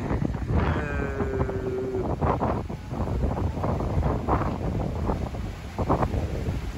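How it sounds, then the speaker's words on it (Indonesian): Strong wind buffets the microphone at Merak harbour on the Sunda Strait at night, a constant roaring rush with gusty bursts and a brief low horn-like tone early on. "Angin kinton datang."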